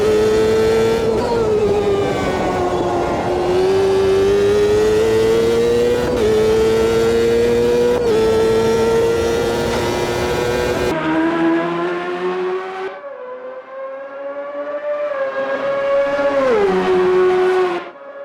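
Champ Car race car engines scream at high revs in the Automobilista 2 racing game, a loud continuous whine that climbs and drops through repeated gear shifts, thinning out briefly before surging again near the end.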